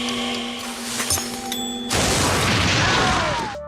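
An explosion in a crime drama series bursts into a loud, broad roaring blast that sustains and slowly fades, following a tense stretch of tonal sound.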